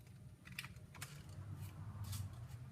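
Paper being folded into a traditional origami camera: soft, close crinkles and light taps come in a few brief bursts over a low, steady background hum, fairly faint throughout.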